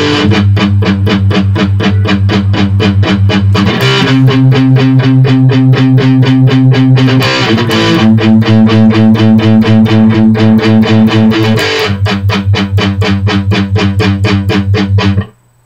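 An electric guitar plays a song with power chords and palm-muted riffing: a loud, steady stream of tight, rhythmic chugs, broken by a few sustained chord changes, then stopping suddenly.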